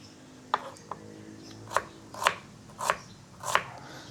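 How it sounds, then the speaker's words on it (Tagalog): A knife slices through an onion on a cutting board for a pork dish: about half a dozen crisp, separate chops, close and fairly quiet, spaced unevenly. "Unahin natin hiwain si sibuyas."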